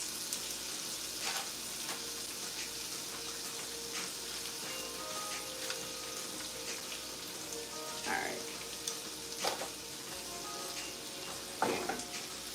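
Coconut shrimp fry in a pan with a constant soft crackling sizzle, a few faint clinks and pops rising briefly above the steady hiss, moderately quiet and without speech.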